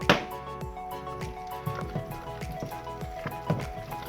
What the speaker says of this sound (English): I'm going with a little more water.